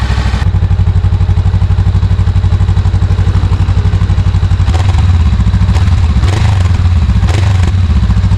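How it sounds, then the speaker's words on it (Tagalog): A close Honda Rebel 500 stock exhaust idles with a steady throb, then is blipped in a few short revs before dropping back to idle. "So, yun yung stock na tunog, mga kaibigan."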